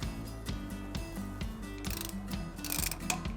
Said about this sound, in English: Get a long breaker bar, 21mm socket, come in behind.